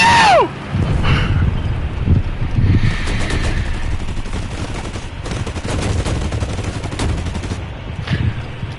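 Tank gunfire in the War Thunder video game, a dense stretch of loud, rapid shots and rumbling blasts running throughout, with a whistling shell sweep at the start.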